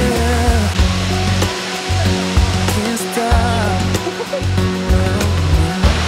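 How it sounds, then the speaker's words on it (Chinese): Songlong Rock waterfall in Nantou, Taiwan, running with heavy water flow, roars loud and constant at close range, a broad unbroken rush of falling water. "这个点呢就是松瓏瀑布，然后今天呢、刚刚好，天气刚刚好， 今天水量很充沛，所以你看水流量很大"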